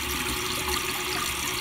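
Water dribbles steadily from a repaired 1983 American Standard Cadet toilet, a continuous close trickle with no voices.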